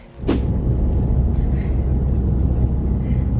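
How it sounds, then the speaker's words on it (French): Steady traffic on a road near a bridge on a hiking route, a continuous low rumble of passing cars that swells in after a brief quiet start and holds at moderate loudness. "On entend des voitures."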